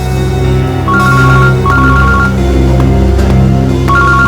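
A phone rings in a CID television drama scene, giving loud repeated electronic ringtone bursts in a steady pattern over a sustained musical background.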